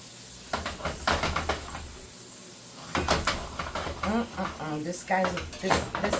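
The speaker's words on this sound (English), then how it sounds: "I gotta mix this butter." Close scraping and clinking of a utensil stirring butter in a wok-style metal pan, repeated in short bursts against a steady kitchen background, with a voice speaking between strokes.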